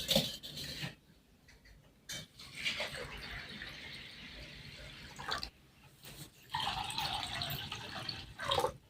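Water poured into a container of washed lentils to soak them, splashing and gurgling in a few separate bursts with quieter pauses between pours, close by and moderately loud.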